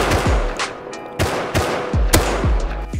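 Gunfire in the survival game Rust: a quick string of loud, sharp shots, several in close succession with booming low tails, sounding near and alone without talk.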